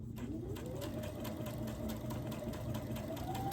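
A sewing machine stitches pieces of a quilt as one unit, a steady close mechanical whir with a rising tone partway through, running alone without talk.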